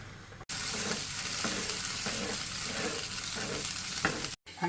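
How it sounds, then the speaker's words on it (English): Shredded cheddar cheese sauce is stirred into macaroni in a pot, a steady wet, sticky churning with soft scraping strokes repeating throughout, close and continuous without talk. "We're gonna mix cheese sauce in the macaroni."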